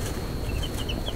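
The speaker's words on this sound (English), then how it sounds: "at Tractor Supply on the way home from work Friday, we got us some new chicks" New baby chicks of breeds including blue-laced Wyandotte and Buff Orpington peep steadily together at close range, a continuous high chirping without talk.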